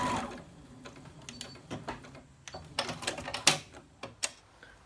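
A sewing machine stitching darts in a cotton fabric face mask gives rapid mechanical clatter in short bursts, close and fairly loud, with small clicks between runs.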